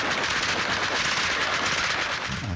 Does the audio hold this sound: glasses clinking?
no